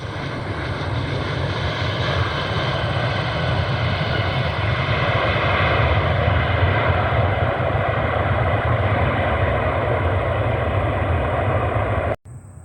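A Southwest Airlines Boeing 737-700 arriving from Baltimore gives a loud, steady engine roar that holds evenly throughout, then cuts off abruptly near the end, with no talking.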